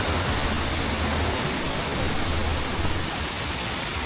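A waterfall in northern Laos gives a constant, even hiss of falling water with a low rumble underneath, steady throughout with no voices.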